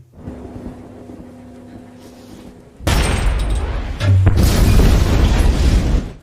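An explosion set off by an explosive bullet: a quiet hum gives way to a sudden loud, sustained roaring blast, and a second deep boom swells a moment later before the noise cuts off.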